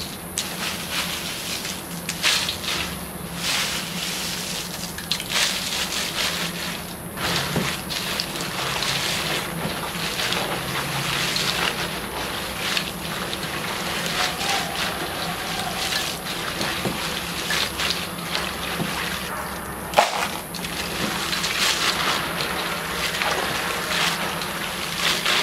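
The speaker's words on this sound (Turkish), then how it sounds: "Biberlerimizi yıkayacağım." Dried peppers are washed at home under running water, making a continuous steady gush and splash of water that lasts throughout, with occasional clatter and no talk.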